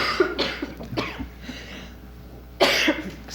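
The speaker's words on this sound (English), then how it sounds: "I have to cough." Several close coughs from a participant at a 1993 high school district quiz bowl, one short burst and another near the end, with throat clearing and no speech.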